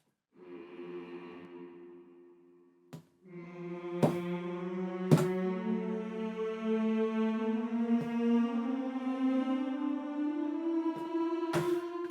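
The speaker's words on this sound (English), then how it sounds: "I decided to combine that with F Phrygian, which sounds like this." An F Phrygian scale plays as a series of sustained, quiet tones, one held pitch sliding into the next, with a few sharp clicks between notes.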